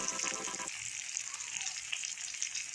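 Chilies, tomato and salt frying in hot oil in a pan, giving a steady close sizzle with a brief burst of stirring or crackle at the start.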